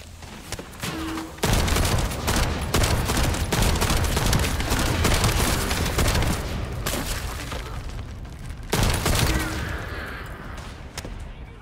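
Sustained heavy gunfire and thudding booms in The First Descendant, a dense continuous barrage with short breaks, loud and close, over rumbling combat noise.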